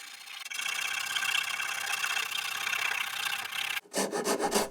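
Hand sanding a wooden surface with a continuous rasping scrub held for several seconds, followed by a few quicker, choppier strokes at the end, with no voices.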